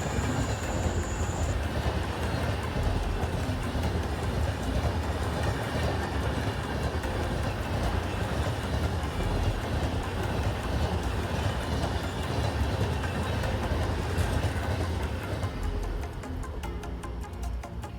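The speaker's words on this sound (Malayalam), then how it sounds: "കേരള എക്സ്പ്രസ് ആണ് ഈ പോകുന്നത്" Kerala Express train running through Perinad railway station without stopping, a loud, continuous rumble of wheels and carriages with rhythmic clatter close by, fading slightly toward the end.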